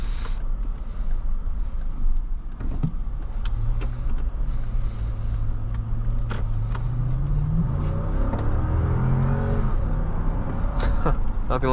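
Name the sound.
Lexus GX 460 V8 engine running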